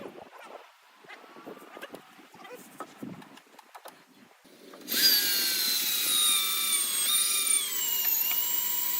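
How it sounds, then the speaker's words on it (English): A power driver sinks fasteners into a timber frame on a snowy off-grid wooden cabin build, a loud steady whine starting midway after quieter knocking and handling noises. "More fasteners are installed throughout the structure, locking the timber members firmly together and increasing rigidity across the entire platform."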